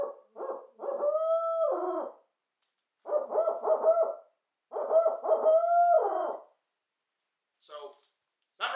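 A man imitates a barred owl with his voice, giving the rhythmic who-cooks-for-you hoots in three drawn-out phrases with wavering, sliding notes, loud and close, followed by a couple of short faint sounds after a pause.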